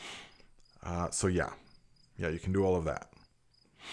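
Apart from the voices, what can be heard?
cricket chirping through open windows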